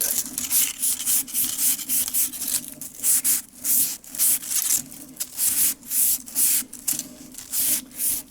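A scouring pad soaked in kerosene scrubs the steel mainspring of a vintage Ansonia kitchen clock, giving close, rhythmic rasping strokes that repeat steadily back and forth with no voices.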